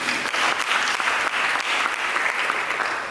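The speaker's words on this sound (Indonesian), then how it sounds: "Berikan tepuk tangan bagi kita." A church congregation claps together in steady, dense applause, close and continuous from start to finish with no voices standing out.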